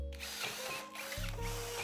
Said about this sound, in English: we're also drilling a 20-40 extrusion with this system